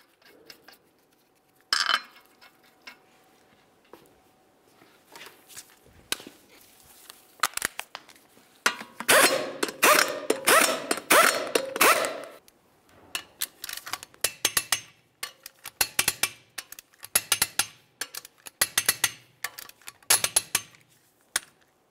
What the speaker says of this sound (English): we'll torque each of these to 89 foot-pounds.